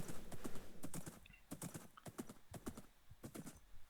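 Blocky hooves of a tamed horse in a Minecraft survival world clip-clop in a steady run of sharp, close taps, with a brief whinny-like squeal near the middle and no talking.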